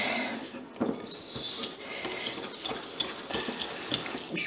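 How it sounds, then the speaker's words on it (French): Stirring a speculoos tiramisu mixture in a bowl, soft wet scraping and clinking that continues steadily, close and moderately loud. "Et on va remuer."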